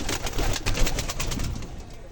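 Pigeon cooing close by while it eats feed in a loft, low soft coos repeating over steady pecking and rustle, no talk.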